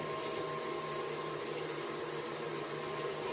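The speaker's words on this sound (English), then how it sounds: "I'm using my little mixer for this because it's not enough ingredients to use my big mixer for" A small electric hand mixer blends banana muffin batter, a steady whirring hum that holds even and close for the whole stretch with no voices.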